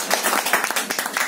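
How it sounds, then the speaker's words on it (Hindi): An audience bursts into a brief round of dense, close, fairly loud clapping at a community gathering, the claps packed together without a gap for just over a second. "जोरदार ताली हो जाए"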